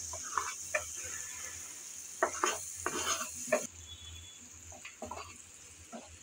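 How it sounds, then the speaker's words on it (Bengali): Chopped onion stirred and lightly fried in a pan, with a steady soft sizzle beneath irregular scraping strokes of a spatula against the pan, clustered in short bursts. "পেঁয়াজ কুচি নেড়ে চেড়ে হালকা করে ভেজে নেব।"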